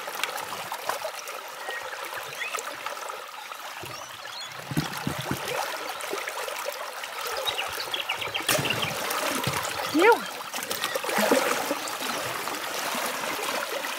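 River water trickling and flowing over rocks in a gold-prospecting stream, a steady close babbling with a few louder splashes and gurgles partway through.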